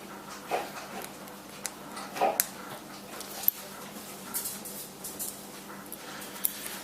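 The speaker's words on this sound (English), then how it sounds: "You probably can hear him drinking water" A dog laps water with quick, irregular wet clicks and splashes nearby, steady for several seconds against a quiet indoor hum.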